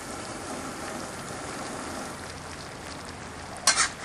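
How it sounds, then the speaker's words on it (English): Nilgai pepper steak with vegetables simmering in gravy, a steady soft bubbling hiss close by, ending with a brief louder clatter near the end; no voices. "Just let it boil a little bit, let the vegetables get a little soft"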